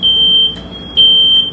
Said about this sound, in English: When the smoke alarm smells smoke, it goes beep, beep, beep over and over again